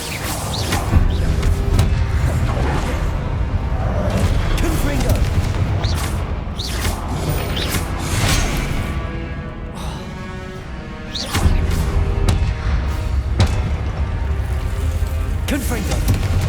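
Incendio fire spell cast in the wizarding action game Hogwarts Legacy, mixed into a busy fight with repeated loud bursts, booms and crashes coming in waves, under a voice calling out.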